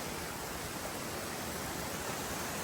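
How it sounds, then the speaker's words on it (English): Mountain waterfall near Lake Louise in Banff, heard as a constant hissing roar of falling water, even and unbroken, fairly quiet and far off with no voices. "water falling down this mountain"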